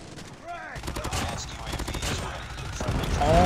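Rapid bursts of close gunfire from a weapon in Call of Duty Mobile, sharp repeated shots building in loudness, with a voice briefly audible over the shooting.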